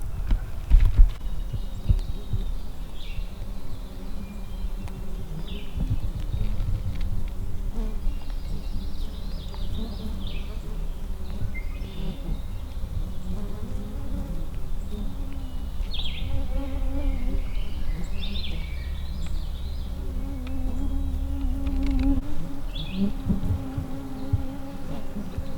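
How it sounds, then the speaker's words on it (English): Dense swarm of mosquitoes and black flies buzzing continuously up close along a wooded ridge while turkey hunting in spring, with overlapping whining drones throughout and low rumbling handling noise beneath. "There's a lot of mosquitoes here. Black flies too."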